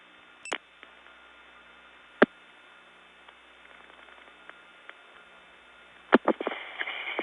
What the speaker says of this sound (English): I'm going to dial a 1, hopefully to get a vacant level recording from that trib.